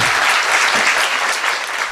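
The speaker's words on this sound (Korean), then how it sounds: "도주환 의원님 박수 부탁드립니다" Loud, dense applause from a live audience for lawmaker Do Jong-hwan, a steady wash of many hands clapping close by without a break.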